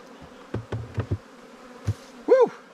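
Honeybees at a hive being combined with another colony, a few close buzzing bursts and brief whines from individual bees flying near, short and uneven against a quiet outdoor background.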